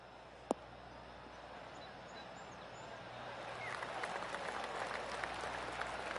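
Golf crowd applause in the video game PGA Tour 2K21, a faint clap spike early on, then a soft scattered patter of clapping that swells over a low, steady background hum.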